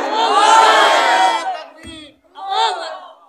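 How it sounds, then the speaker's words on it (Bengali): A crowd at a religious gathering roars a loud takbir (Allahu Akbar) chant in unison, then answers a second time after a short pause. "তাকবীর হবে না একটা?"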